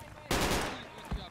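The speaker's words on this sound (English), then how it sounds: "Why are you shooting at me?" A burst of automatic gunfire rings out close and loud in the Project Reality military shooter game, a dense rattling volley of about a second followed by one more sharp shot.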